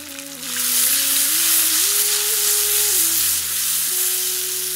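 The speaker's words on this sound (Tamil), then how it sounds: "இப்ப சின்ன வெங்காயத்தை சேர்த்துக்கலாம். அது கூட 6 பச்சை மிளகாயை சேர்த்துக்கலாம்." Shallots and green chillies frying in hot oil with curry leaves in a pan, a loud, steady sizzle that rises as the ingredients go in and continues throughout with a faint hum underneath.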